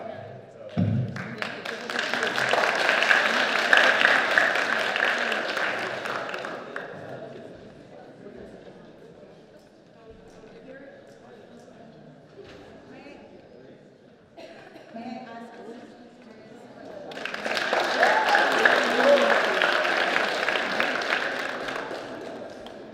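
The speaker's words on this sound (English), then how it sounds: "Another clap." Audience applause at a university talent show, two loud bursts of dense clapping from a full hall, each swelling and fading over several seconds, with quieter murmur in between.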